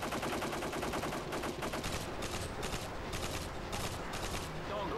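Rapid automatic gunfire in a Modern Warfare 2 match, loud dense bursts of shots repeating in quick stuttering volleys for the whole stretch.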